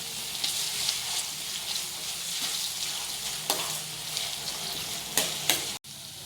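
Ginger paste fries in a pan with a steady, close sizzle and crackle, punctuated by a few sharper scraping stirs, ending in an abrupt cut.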